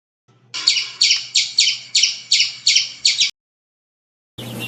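A squirrel calls with a regular train of eight piercing, high chirps, each fading quickly, loud and near, followed by a pause and the start of another burst.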